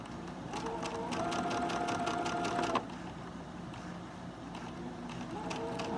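A sewing machine runs steadily, stitching a seam for a Halloween sewing project, with a rapid mechanical rhythm that stops abruptly partway through and then resumes, loud and close with no talk.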